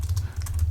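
Quick, soft, irregular tapping of keys on an iPad Mini 6 Bluetooth keyboard case, heard up close over a steady low hum with no talking.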